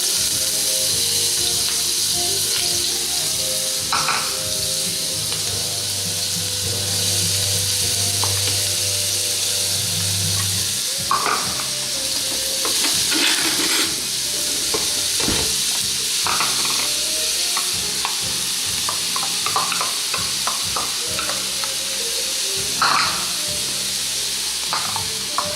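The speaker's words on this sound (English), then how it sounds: "saute the onions, celery, and the peppers into 1 tablespoon of heated olive oil" Onions, celery and peppers sauté in a tablespoon of heated olive oil, giving a steady close sizzle with occasional stirring scrapes and clinks of a utensil against the pan.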